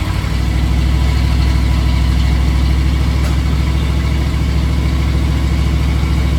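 A 1979 Ford Bronco V8 idling through a freshly clamped side dump exhaust, a loud, steady low rumble with an even throbbing pulse heard up close and continuously, no speech.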